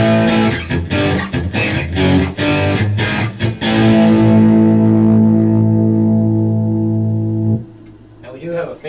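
Electric guitar chords from a Fender Stratocaster ring through a Boss Katana 100-watt amp with mild grit and effects, strummed rhythmically before a sustained chord holds and cuts off near the end.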